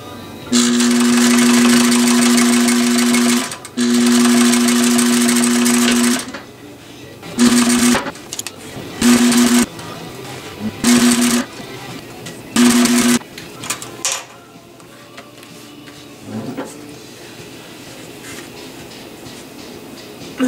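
A sewing machine stitches the interior lining of a vintage helmet. It runs in two long, steady loud bursts, then in several shorter stop-start runs, and falls quiet near the end.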